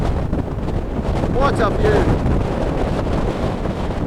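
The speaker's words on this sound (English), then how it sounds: "Very windy, but it's worth it just to have a look." Strong wind buffets the microphone on an exposed hillside in the Glenrosa/Sannox valley near The Saddle, Isle of Arran, a loud steady roar throughout with a brief spoken exclamation partway through.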